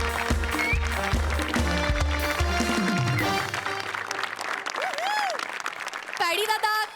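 Loud applause from a studio audience at an awards presentation on a Marathi comedy show: a sustained burst of clapping mixed with music and cheering, then whistles and shouts near the end.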